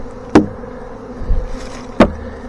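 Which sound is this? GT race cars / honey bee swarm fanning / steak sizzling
honey bee swarm fanning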